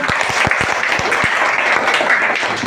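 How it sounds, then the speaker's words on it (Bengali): Steady applause from a school audience at a student event, many hands clapping in a continuous wash with a few sharper near claps standing out at the start, no talking over it. "সব একটা হাততালি দাও"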